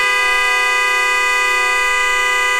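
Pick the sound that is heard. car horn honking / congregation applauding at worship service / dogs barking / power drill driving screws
car horn honking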